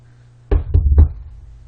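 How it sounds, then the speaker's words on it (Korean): Three firm, loud knocks on a front door at an even pace, close by against a quiet room. "노크 소리가 한 번 더 들렸다."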